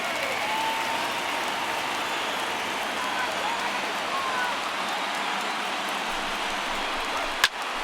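Simulated stadium crowd noise in MLB The Show 19 during a Marlins game at Tampa Bay, a steady broad roar from a sparse crowd rising for a full count, with one brief sharp crack near the end.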